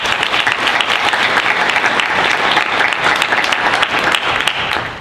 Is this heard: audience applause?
yes